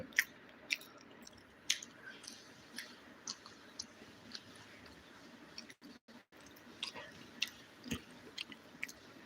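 Close, quiet chewing of fried chicken, with repeated wet clicks and soft bites at an irregular pace and only faint background noise.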